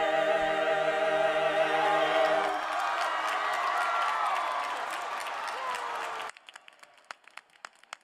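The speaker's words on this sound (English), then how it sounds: "let's give the choir another big round of applause, and also our amazing symphony" A large commencement audience at Cal Poly applauds the choir and symphony, dense clapping and cheering that starts over a fading sung chord, then thins out into scattered individual claps near the end.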